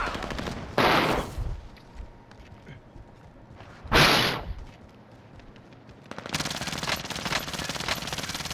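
Gunfire in the video game Call of Duty: Modern Warfare: loud bursts of automatic fire crack out in separate volleys, with a sustained rattling stretch near the end.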